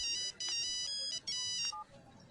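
A phone ringtone plays in repeated bright electronic bursts with short gaps, loud and close, fading out at the end.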